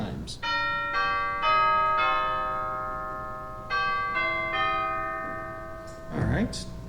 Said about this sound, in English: with some chimes.